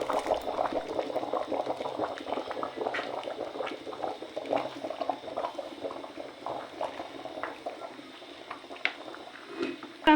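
Pot of bean stew boiling over an open fire, a steady bubbling and gurgling with small pops, moderately quiet and close, with no talk.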